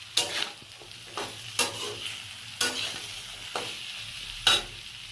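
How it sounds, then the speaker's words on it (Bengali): A pan of winter vegetable curry with bori sizzles steadily while a spoon stirs it in about six distinct scraping strokes, close and fairly loud. "একটু নাড়ানাড়ি করে নিই, তারপরে দেখাচ্ছি।"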